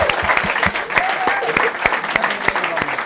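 Audience applause at a Formula One fan gathering for the Brazil Grand Prix, many hands clapping in a lively, uneven patter with distinct individual claps near the front, mixed with some voices.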